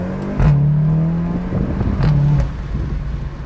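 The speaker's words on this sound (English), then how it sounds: "this car sounds a lot nicer than a lot of cars that are even way more expensive than the Golf R" Exhaust note of a VW Golf 7.5 R on the move, a steady droning tone that rises in two clear bursts as the engine revs, fairly close and with no talking over it.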